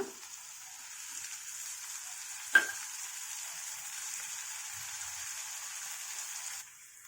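Curry leaves and coriander dropped into hot oil in a frying pan, a soft, steady sizzle with one sharp crackle early on, faint and close, fading at the end.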